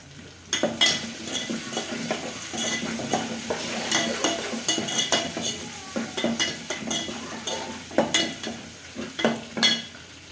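Ginger, garlic and green chilies sauté in a pan for mushroom biryani: a constant sizzle under repeated scraping and clinking strokes of a spoon against the metal pan, close and busy, with no talk.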